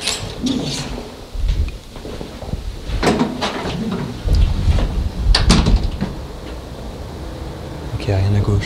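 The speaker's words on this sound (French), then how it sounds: "j'ouvre la porte de l'immeuble" An apartment building's entrance door is opened, with clunks and rattles of the latch and door under steady background noise, heard near and at moderate loudness.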